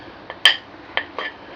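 A spoon clinking against a plate while stirring sambal into Jakarta-style fried rice, four short metallic taps, one louder than the rest, close and alone.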